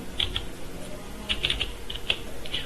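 Someone types a captcha code on a computer keyboard, giving a handful of light, close key clicks in small irregular clusters over a soft background hiss, with no talking.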